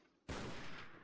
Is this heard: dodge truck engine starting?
no